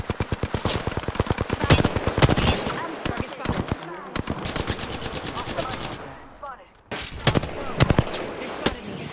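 Rapid, loud bursts of automatic gunfire from the video game Apex Legends rattle almost continuously, with dense rhythmic shots and brief pauses, under faint game chatter.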